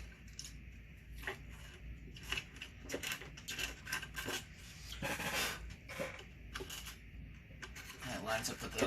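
A drill bit turned by hand to ream mounting holes in a McCulloch Model 77 chainsaw fuel tank, producing quiet, close scraping and rasping strokes in an irregular rhythm, with faint talk in between.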